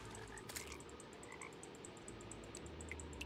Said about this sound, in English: There's that frog. Keep hearing him.